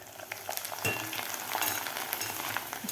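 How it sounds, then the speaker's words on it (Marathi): Corn poha flakes deep-frying in hot oil for a sweet-sour-spicy chivda, a steady dense crackling sizzle with bursts of bubbling, close and continuous with no voices. "मस्त तळत आहेत पोहे"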